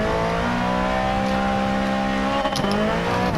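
Modified Ford Focus ST on racing soft tires in a racing video game, its engine revving hard and rising in pitch under acceleration, loud and steady with a brief shift blip near the end.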